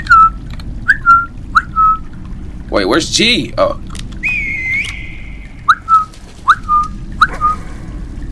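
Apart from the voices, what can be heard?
person whistling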